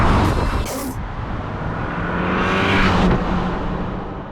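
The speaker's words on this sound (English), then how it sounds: "We are going for a drive right now in our F30" A BMW F30 on the road, its engine humming and rising as it accelerates, with steady road and wind noise, fairly loud and continuous from inside the car.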